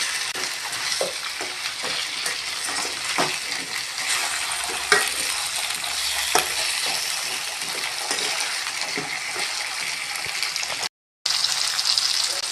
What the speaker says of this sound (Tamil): முருங்கைக்காய்களையும் அதில் எல்லாத்தையும் ஒன்றா சேர்த்து வதக்கலாம்